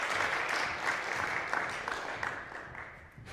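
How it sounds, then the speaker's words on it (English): A Talon Talks presentation showcase audience applauding steadily for a finished speaker, a dense sustained wash of many hands clapping that slowly tapers over a few seconds. "Let's give him another big round of applause to Kate."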